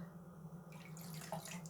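Tap water runs into a sink while an artichoke is rinsed, a soft steady splashing stream with a low hum underneath, faint and close.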